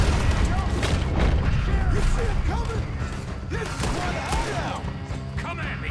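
Gunfire in Red Dead Redemption 2 as a lone enemy is shot repeatedly: several sharp, loud reports scattered over a busy mix of game noise, with creaks and mechanical clatter in between and no talking.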